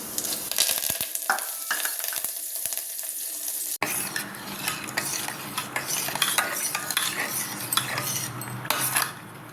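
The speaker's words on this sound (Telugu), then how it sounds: "కొంచెం ఆయిల్ వేడెక్కింది కదా తాళింపు గింజలు యాడ్ చేద్దాము కొంచెం పసుపు కరేపాకు" Mustard seeds and curry leaves with turmeric crackle and sizzle loudly in hot oil for a tempering, a sudden burst of spattering joining quieter stirring clinks and continuing steadily up close.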